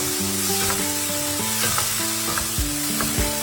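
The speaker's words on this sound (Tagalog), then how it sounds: "iba-brown natin, ipapan-fry natin ang ating mga potatoes para hindi sila fall apart mamaya" Potatoes pan-frying in hot oil for a giniling menudo, a steady, loud sizzle with occasional stirring, heard over soft background music.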